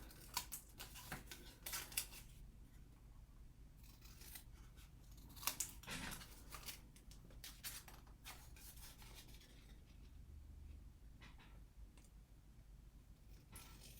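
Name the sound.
scissors trimming paper along the stitches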